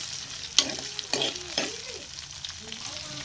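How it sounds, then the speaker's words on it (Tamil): A spoon stirs onion, fennel seeds and chana dal frying in hot oil for a poori kurma, giving several distinct scraping strokes over a soft crackling sizzle, close and moderately loud, with no voices. "எண்ணெய் பொரிஞ்சதும் சோம்பு, அடுத்து கடலைப்பருப்பு, அடுத்து பெரிய வெங்காயம் ஒரு கிளறிக்கணும்."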